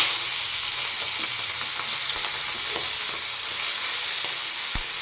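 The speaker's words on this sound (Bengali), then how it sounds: "এবার আমি চিংড়ি মাছগুলো ভেজে নেব" Prawns frying in hot oil give a loud, steady hiss and crackle, with a few light spatula taps and a thud near the end.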